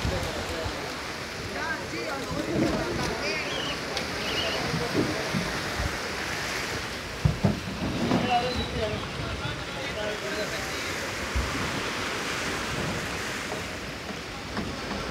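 Ocean waves wash continuously against the shore at a small fishing port, a broad steady surf roar with a few brief sharper splashes, fairly close and loud throughout.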